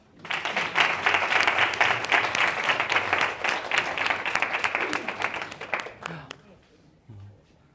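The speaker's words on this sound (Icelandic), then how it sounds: "Gefið henni gott klapp." An audience at a live sustainability awards event claps for a Byko representative, dense sustained applause that fades toward the end, followed by a brief voice.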